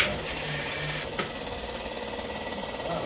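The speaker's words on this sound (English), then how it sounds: "it sounds like the starter's not doing his job" The starter motor of a 700-horsepower turbocharged Infiniti G35 chatters with a rapid, steady mechanical clicking and whir but fails to turn the engine over, with one sharper knock partway through.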